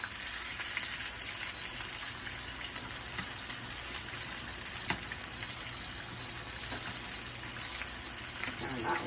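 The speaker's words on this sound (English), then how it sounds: "it's there frying nicely" Oyster mushrooms sizzle and crackle steadily in hot oil in a pan, a continuous close frying hiss with occasional pops and faint voices in the background.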